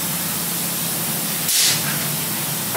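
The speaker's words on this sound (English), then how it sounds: "Pass me the hose." A hose gives one short, sharp spray burst about halfway through, standing out above a steady background hiss in a garage where a Bel Air dash is being painted.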